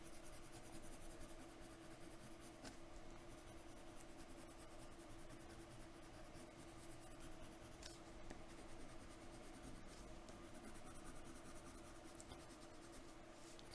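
Colored pencil layers color on paper in steady, continuous scratchy shading strokes, very faint and close, with soft hiss and no talking.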